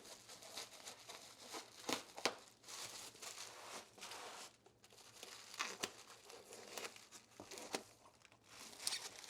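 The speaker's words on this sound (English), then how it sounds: "I'm going to go ahead and just use the scissors." Scissors snip through paper while cutting out a pattern for a stained glass dove project, producing quiet crinkling, crackling cuts in an irregular rhythm, close and faint, with no talking.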